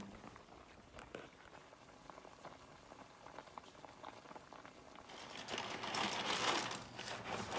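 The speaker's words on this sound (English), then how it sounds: "The vegetables are boiling." A pot of vegetable soup bubbling on the stove, a steady soft simmer that swells louder and more vigorous toward the end.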